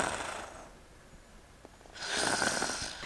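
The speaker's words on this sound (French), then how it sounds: "Oh, elle ronfle, elle est en train de dormir." A sleeping video game character snores, with a long drawn inhale, a quieter pause, then a louder raspy snore, close and clear with no talk.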